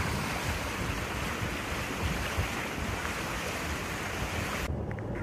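Gentle waves wash steadily against a moving boat on calm, clear water in the Bight of Eleuthera, with a continuous loud rush of water and wind noise throughout, no voices.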